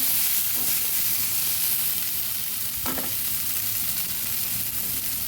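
Bitter gourd and potato fry in a pan with a steady sizzle, broken by a couple of brief scraping stirs, close and continuous with no talking.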